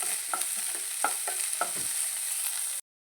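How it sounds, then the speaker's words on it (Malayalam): Sliced onions sautéing with salt in a pan, a steady bright sizzle broken by several sharp scrapes and clacks of a spoon stirring, close and fairly loud, then cutting off abruptly to silence. "ഉള്ളി വാടാൻ വേണ്ടി നമുക്ക് കുറച്ച് ഉള്ളി ഉപ്പിട്ട് കൊടുക്കാം പെട്ടെന്ന് വഴന്നു വരാൻ വേണ്ടിയിട്ട് നന്നായിട്ട് വാഴട്ടെ"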